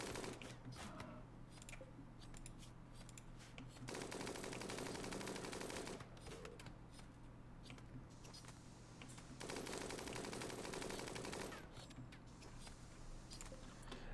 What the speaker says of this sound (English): Don't run in front of that gunfire.